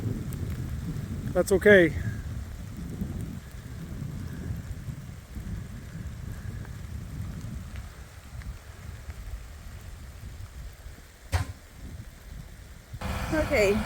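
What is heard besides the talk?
rain and wind on a farm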